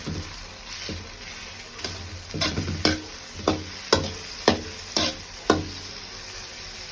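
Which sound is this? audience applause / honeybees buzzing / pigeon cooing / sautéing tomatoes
sautéing tomatoes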